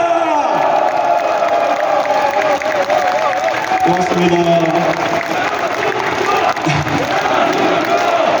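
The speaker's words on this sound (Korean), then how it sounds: "여러분께서 마지막으로 커다란 박수 한 번 부탁드립니다" An audience at a book launch event for a South Korean provincial governor applauds and cheers loudly and steadily throughout, with whoops and shouts mixed in and a voice briefly speaking over the crowd.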